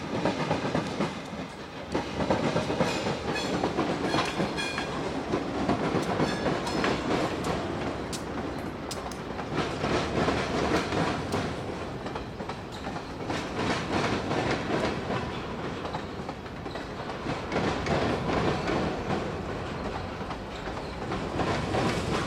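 A freight train hauled by classic GE Dash 7 locomotives on the Minnesota Commercial Railroad rolls across a railroad diamond, wheels pounding out loud, steady clickety-clack over a continuous rumble with no talk.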